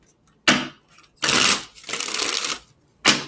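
Tarot cards are shuffled by hand in close, crisp bursts of riffling and flicking, three or four separate runs with short silent gaps between them.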